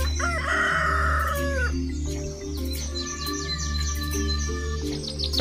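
A rooster crows loudly and close by over a steady low hum, with scattered chirps and clucks from other fowl around it.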